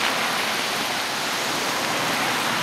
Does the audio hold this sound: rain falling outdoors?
yes